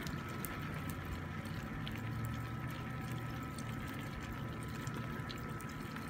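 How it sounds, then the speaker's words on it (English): Heavy rain pours down outdoors at the Canmore Nordic Centre, a steady, dense hiss of falling water that holds evenly at a moderate level with no talk. "It's pouring pretty good."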